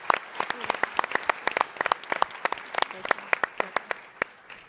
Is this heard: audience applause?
yes